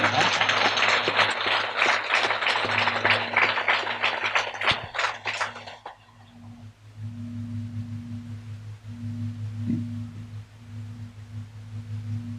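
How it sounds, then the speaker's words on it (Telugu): An audience at a pyramid meditation hall gathering claps with both hands, a dense burst of applause for about six seconds that then stops, leaving a steady low hum and faint tones. "4 చేతులతో చప్పట్లు కొట్టే ముందు 2 చేతులతో చప్పట్లు కొడతాం బాగా ఫస్ట్."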